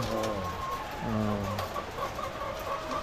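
Chickens cluck and call nearby, a few drawn-out tonal clucks early on, then softer scattered sounds over a steady background hiss.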